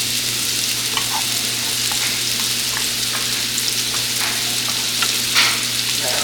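Ground beef sautés in a pan for lettuce wraps, a loud, steady, close sizzle with light scraping clicks from stirring and a constant low hum underneath.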